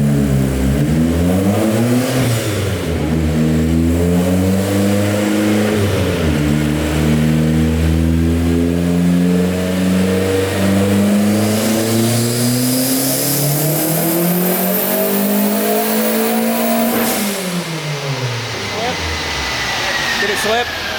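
A Mazda Miata running on E85 revs hard through a dyno pull, its engine note climbing and dipping loud and close, then sweeping up steadily to a high pitch before dropping off, with people talking underneath.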